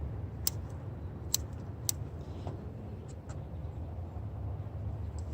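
Road traffic drones steadily in the distance outside a garden, a soft continuous low rumble, broken by a few crisp nearby clicks and snips early on.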